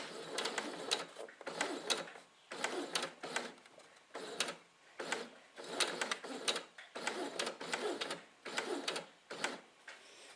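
Sewing machine stitching curves in short runs: rapid mechanical whirring bursts that start and stop repeatedly, with brief pauses between them, close and fairly quiet.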